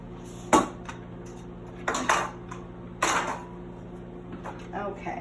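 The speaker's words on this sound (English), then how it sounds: "I'm gonna make some guacamole in the manual food processor." Plastic parts of a manual food processor for guacamole rattle and clatter in a kitchen, three sharp knocks spaced a second or so apart, then softer clicks over a steady background hum.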